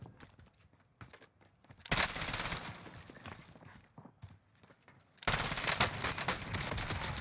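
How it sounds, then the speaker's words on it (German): Rapid automatic gunfire in the video game Warzone, two long loud bursts of fast shots separated by quieter clicks and movement sounds, close and sharp. "Schaut mal, wie schnell 40 Schuss weggeballert sind."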